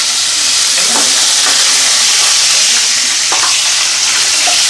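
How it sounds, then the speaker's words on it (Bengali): Fish frying in a pan, a steady close sizzle with a few brief clinks and scrapes of stirring, no voices. "তো এদিকে মাছ ভাজাটা হইতে থাক"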